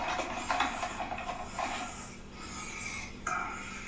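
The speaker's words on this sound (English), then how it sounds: "You hear him breathing?" A man breathes heavily in raspy, wheezing rasps, a few audible breaths with faint hissing room noise behind them.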